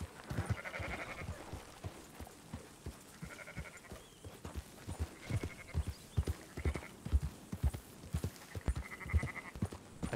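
Sheep in Red Dead Redemption 2 bleat repeatedly over the steady clip-clop of horse hooves, the bleats rising in short bursts every second or two above the constant rhythmic hoof beats.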